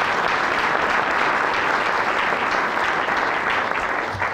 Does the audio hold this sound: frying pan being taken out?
no